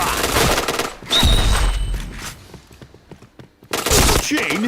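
Rapid automatic gunfire bursts in the Point Blank shooter game, loud chattering volleys broken by short pauses and single thuds, with someone talking excitedly over parts of it.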